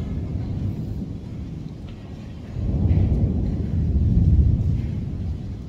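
Thunder rolls through heavy nighttime rain, a dense broadband rumble that swells louder midway and holds, with the steady hiss of rain throughout.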